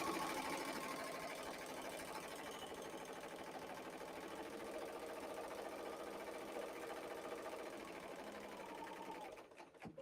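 A serger fitted with a cording foot runs fast and steadily, giving a continuous rapid mechanical whir with a dense stitching rattle that stops abruptly just before the end.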